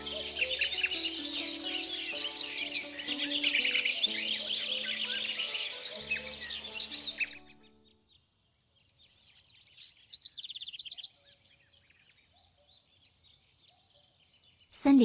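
Birds sing in a lively forest, bright chirps and calls layered over a musical bed at first, then a few fainter isolated chirps after the music drops away, ending in a brief loud burst.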